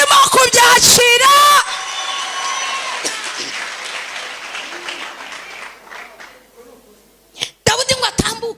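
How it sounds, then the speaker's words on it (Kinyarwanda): A church congregation breaks into a short burst of loud applause and cheering, which quickly fades as a preacher's voice carries on talking over a quiet room. "Komera Imana yawe amashyi niba urimo kubyakira."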